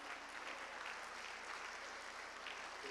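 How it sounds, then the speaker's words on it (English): A crowd applauds steadily, a dense wash of clapping heard from a slight distance that holds at an even level throughout. "would you give our sponsors a huge round of applause?"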